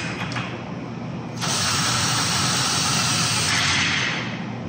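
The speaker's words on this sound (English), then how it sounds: "make sure you put your drill on a low speed, like a 1 speed" A power drill grinds into a cam with a steady whirring hiss that jumps louder after a moment and keeps going close up, with no voices.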